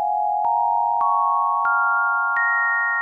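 A steady synthesizer pad sustains a bright chord, with new notes stacking on one by one at even intervals, each entering with a soft click.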